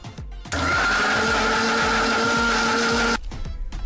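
Mixer grinder running steadily at full power as papaya and milk blend in the jar, a loud continuous whir starting abruptly and stopping after about two and a half seconds, with quieter motor rumble before and after.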